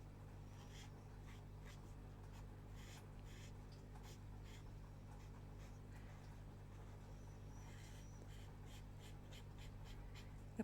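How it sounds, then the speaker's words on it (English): Marker pens scrape on the paper of an adult colouring book while someone colours stuffed-animal artwork, giving very quiet, close, repeated short scratchy strokes over faint background noise. "pens scraping along on the paper."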